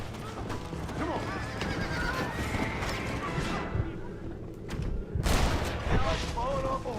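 A horse neighs in the Red Dead Redemption game during a wagon chase. Whinnies and hoofbeats mix with gunfire and other game noise, with a louder burst near the end.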